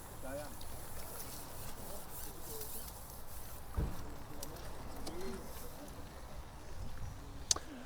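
Birds chirp outdoors at a calm fishing spot by the water, their light scattered calls sitting under soft ambient noise and some nearby talk.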